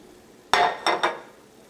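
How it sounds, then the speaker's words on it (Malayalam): Fried shrimp drop into masala in a pan for pickle, landing as three quick, fairly loud sizzling bursts that trail off into quiet. "ഇതിലേക്ക് നമ്മൾ വറുത്ത് വെച്ചേക്കുന്ന ചെമ്മീൻ ചേർക്കാം."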